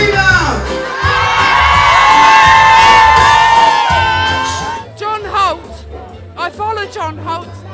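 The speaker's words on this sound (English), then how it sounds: "I want to hear the girls scream out." A concert crowd at a show screams and cheers loudly in a sustained roar of high voices, fading after a few seconds into scattered whoops and shouts.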